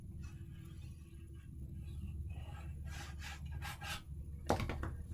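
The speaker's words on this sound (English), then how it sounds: "I'm going to burnish" Paper is burnished while assembling a mini album, heard as soft, quiet rubbing and scraping strokes that end in a brief sharper scrape, over a low background rumble.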